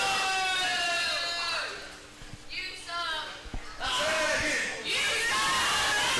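A crowd at a ProSouth Wrestling event jeering wrestler Julian Balderas during his match with Justin McKenzie, rising in loud bursts of yelling and shouting, with an announcer talking over it.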